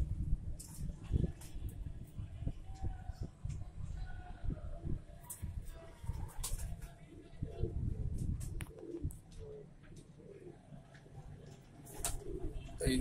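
Archangel fancy pigeons coo in repeated soft, throaty phrases close by, with scattered chirps and light rustling throughout.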